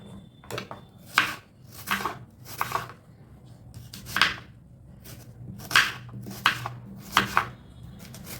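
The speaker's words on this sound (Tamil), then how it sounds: "வெங்காயம் மட்டும் நம்ம பெருசாக கட் பண்ணிக்கலாம்" A knife chops onions into large pieces on a board, about a dozen sharp, close thuds landing in uneven bursts with short pauses between, for a spicy kara chutney.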